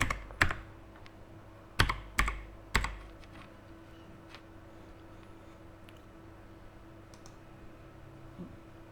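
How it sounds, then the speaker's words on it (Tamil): Several sharp computer keyboard keystrokes on a Windows 10 PC come in a quick burst near the start, then a few fainter taps follow over a quiet background hum, with no one speaking. "இதில் தமிழ்னு டைப் பண்ணிக்கிறங்க."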